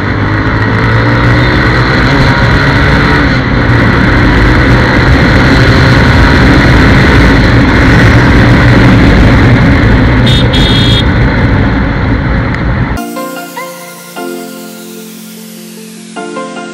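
A 1988 Yamaha RX 100 motorcycle engine runs loud and close with a steady rough two-stroke drone, then cuts out abruptly near the end, leaving faint ringing and small clicks.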